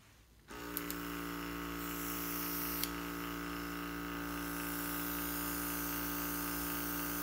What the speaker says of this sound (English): Don't spray too much at once.